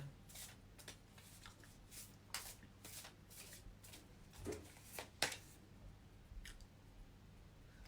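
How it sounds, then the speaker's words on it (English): Tarot cards being shuffled by hand, with quiet repeated riffling and soft slaps in uneven bursts and a few sharper snaps, close and faint with no talk. "I shuffled. I did some good shuffling, right?"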